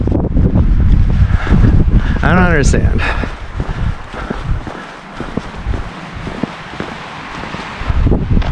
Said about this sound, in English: Ah, it is windy.